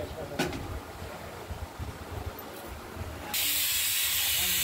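Steam hisses from a pressure cooker whistle while lentils cook with bottle gourd pieces. Loud and close, the hiss surges in a sudden rush partway through and holds steady, over an earlier rumbling background.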